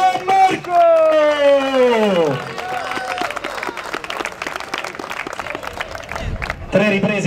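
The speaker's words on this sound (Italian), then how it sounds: "un grande applauso all'angolo rosso, Cimini" Applause and crowd noise fill an arena as a boxer from the red corner enters the ring at an amateur boxing bout, loud and steady under an announcer's amplified voice and music tones at the start.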